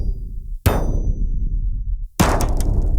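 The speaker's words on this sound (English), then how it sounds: "The spring, the little bar what you hear, is actually from the leaf rake, steel spring" A steel spring taken from a leaf rake is struck twice, each blow a loud metallic clang with a bright ringing tail and deep boom, spaced about a second and a half apart like a cinematic hit.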